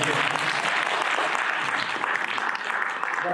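A political rally crowd claps steadily, dense and sustained applause at full strength throughout with no letup.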